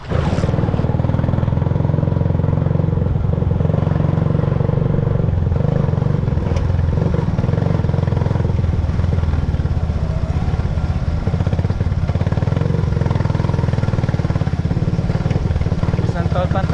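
A loud, steady engine drone with rattling clatter runs throughout, a bangka boat motor chugging continuously close by on the water near Masantol, Philippines.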